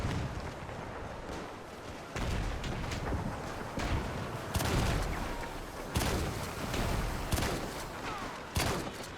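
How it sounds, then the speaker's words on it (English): Artillery shells burst repeatedly on a World War I battlefield in the Between Empires video game, with heavy booms and crackling blasts arriving in irregular volleys over a constant rumbling din. "I'm being blown up by my own artillery"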